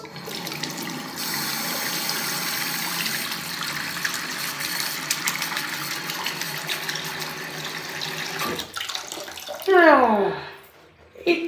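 A DVD disc being washed under running water, a loud continuous splashing gush that runs for several seconds, then shifts and cuts off near the end, with a brief spoken exclamation.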